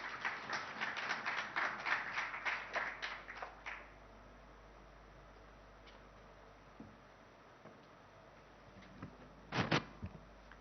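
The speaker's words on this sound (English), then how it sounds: "Can we have a round of applause?" An audience applauds at a German investor summit held in a hotel ballroom in Hyderabad. A short, light burst of scattered claps dies out after about four seconds, then a brief second flurry follows near the end over quiet room tone.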